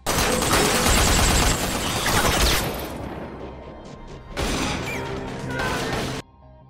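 Gunfire erupts in a film shootout: a loud, dense volley of rapid shots, a short lull, then another burst that cuts off abruptly.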